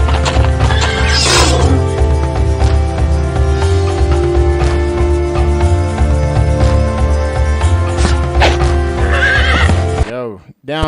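A horse neighs loudly and its hooves clip-clop close by over dense game music, with a second whinny later and a voice talking over parts of it.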